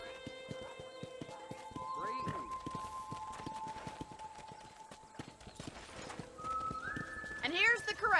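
Horses in a video game ranch corral whinny and clop their hooves in a steady walking rhythm, with neighs rising clearly near the start and end while voices talk over the scene.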